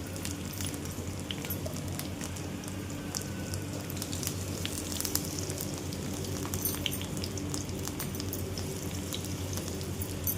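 Ivy gourd curry frying in a pan with turmeric and salt, a soft, continuous sizzle and crackle that holds steady at a low level, with no voices.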